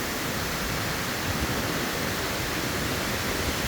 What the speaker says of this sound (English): I wanted to let y'all see and hear the wind blowing